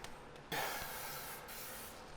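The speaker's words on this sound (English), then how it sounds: "Our mixing bowl with a little canola oil, and I'm gonna spray the top." Canola oil spray hisses from a can onto dough in a mixing bowl, a sudden close burst of aerosol that starts after a brief pause and carries on steadily to the end.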